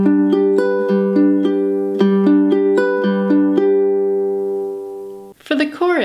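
Ukulele fingerpicking pattern played at song tempo, clear plucked notes in a steady repeating rhythm that rings out into a sustained final chord, followed by a brief spoken word.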